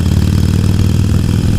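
A Harley-Davidson Iron 883 with an Evolution engine idles at a standstill: a loud, steady, close low rumble with an even throbbing pulse and no other sounds.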